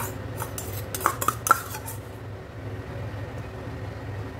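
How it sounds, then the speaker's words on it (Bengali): A ladle stirs mashed raw mango into a pot of lentil dal with drumsticks, giving a few quick metallic clinks against the pot over a quiet, soft background. "এবার এই ম্যাশ করা আমটা এই ডালের মধ্যে মিশিয়ে দেব"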